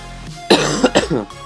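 A single sharp cough with a throaty clearing, a few quick bursts close to the mic, with no talking.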